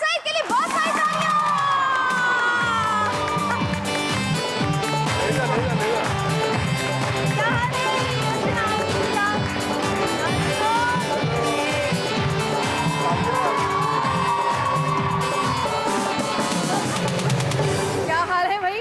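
Studio audience on a Pakistani entertainment show applauds and cheers loudly and continuously for three brothers being called up, a dense steady crowd roar with scattered shouts lasting throughout.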